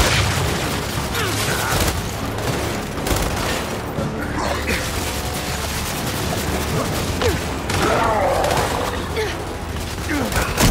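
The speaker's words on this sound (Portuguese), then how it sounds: "Lançando granada de fragmentação!" Frag grenade explosion in the Gears 5 video game, rumbling booms and bursts of gunfire running continuously amid dense battle noise, with voices heard briefly.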